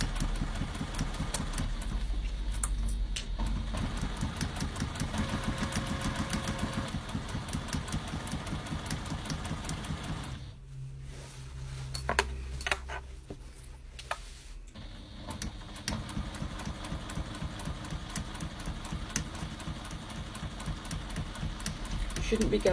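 Domestic sewing machine stitching a straight seam on a fabric tablet stand, running in a steady fast mechanical whir with a brief pause in the middle before resuming, while a person talks throughout.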